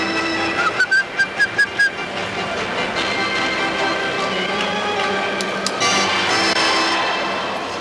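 Several short sharp whistle blasts in quick succession, then a longer blast amid a noisy, echoing arena crowd.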